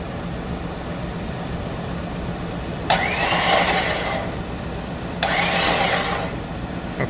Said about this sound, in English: I'm going to start winching you forward